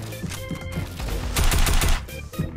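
Drum gun blasting in Fortnite, a rapid stream of close, loud shots that swells into a dense burst midway, then tapers into a few scattered rounds.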